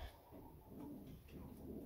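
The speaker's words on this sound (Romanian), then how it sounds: "Avem aici acel porumbel care îmi place mai puțin" A female pigeon cooing softly in low, rolling murmurs, faint and close, repeating in short pulses over a quiet background.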